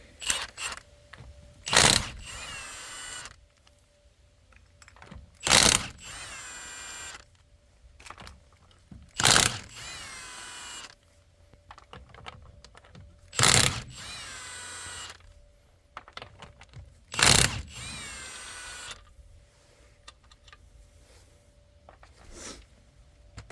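A power tool removes lug nuts from the rear wheel of a 2003 Cadillac CTS, firing in about five loud, short rattling bursts a few seconds apart, with quieter mechanical clicks and handling noise between them.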